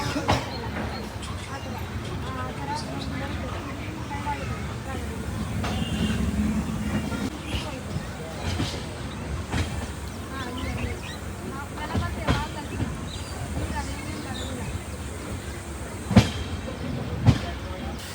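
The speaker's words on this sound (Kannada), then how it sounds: "ಅಲ್ಲಿ ಅಪೋಸಿಟಲ್ಲಿ ಯಾವುದೋ ಒಂದು ಟ್ರೈನ್ ಬರ್ತಾ ಇದೆ" A train rolls past on the opposite track outside Pune in the rain, a steady rumble and rattle of wagons heard from inside a halted train, with occasional sharp clacks and voices nearby.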